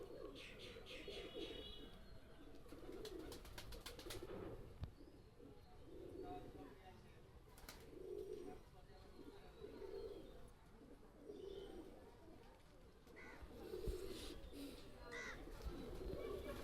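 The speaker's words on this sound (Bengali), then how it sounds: "এটা হলো কামাগার কবুতর নিয়ে আসলাম এক পেয়ার" Kamagar pigeons, an old-generation breed, coo in low, repeated throaty rolls throughout, joined by scattered chirps and occasional clicks and rustles nearby.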